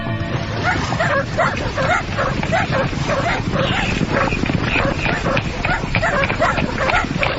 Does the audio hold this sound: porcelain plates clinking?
no